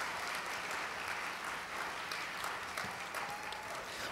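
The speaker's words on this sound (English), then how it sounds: "Let's give them all one big round of applause." A keynote audience claps steadily in a dense, continuous round of applause that holds at an even level throughout, with no single voice standing out.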